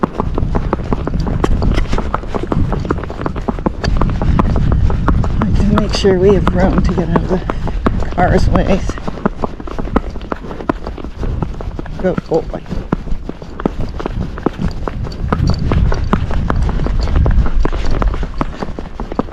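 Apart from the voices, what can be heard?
hoofbeats of a Tennessee Walking Horse racking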